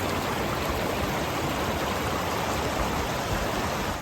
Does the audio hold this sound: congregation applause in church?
no